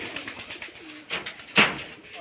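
Rajshahi Giribaz pigeons coo in short, soft bursts close by, with one sharper call standing out among quieter murmurs.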